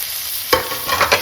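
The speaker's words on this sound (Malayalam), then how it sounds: "നമുക്ക് സവാള ഇട്ട് കൊടുക്കാം സവാളയും കൊച്ചുള്ളി ചെറിയ ഉള്ളി കുറച്ച് ഉപ്പും കൂടി ഇട്ട് കൊടുക്കാം" Onions and shallots drop into a hot pan for a beef dish, giving a sudden close sizzle after a quiet start, followed by a few scraping stirs and crackling bursts with no talk.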